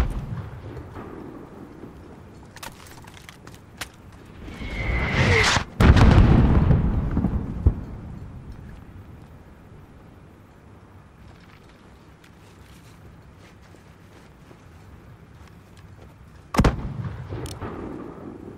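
Mortar impacts and gunfire on a battlefield in Call of Duty Modern Warfare: scattered sharp shots, a big rumbling blast midway, then quieter intervals broken by another loud crack near the end.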